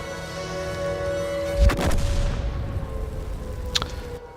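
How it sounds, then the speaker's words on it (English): In World of Tanks, an artillery shell strikes a tank with a heavy boom, followed a couple of seconds later by a sharper, smaller crack, all over a low, constant engine drone. No voices. "Artillery gets him."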